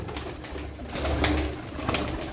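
A pigeon coos in a loft of Iraqi-bred flying pigeons, a low throaty murmur repeated a few times close by, with no talk.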